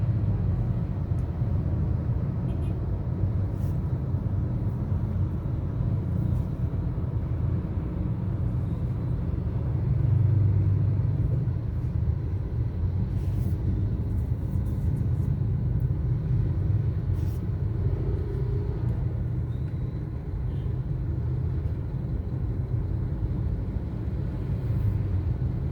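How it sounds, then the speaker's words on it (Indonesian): Dense road traffic with cars and two-wheeled motorbikes queuing, a continuous low rumble of idling and slowly moving engines close by, with no talk. "Bahkan kendaraan roda 2 pun harus antri. Ini menunjukkan bahwa padatnya volume kendaraan."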